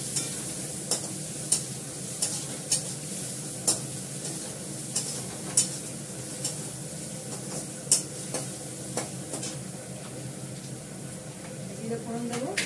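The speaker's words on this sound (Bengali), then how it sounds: "পেঁয়াজটাকে ভালো করে ভাজবো। তারপরে এর মধ্যে দেবো জিরে ফোড়ন," Onion fries with cumin seeds tempering in a pan: a steady sizzle runs throughout, punctuated every second or so by sharp scrapes of a spatula stirring, while someone talks over it.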